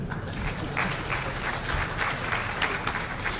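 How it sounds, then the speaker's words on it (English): Audience applause fills a hall at the DEFCON 17 hacker security conference talk, a steady, dense wash of many hands clapping at once, fairly close and loud throughout, with no talking over it. "I think that also probably deserves a round of applause."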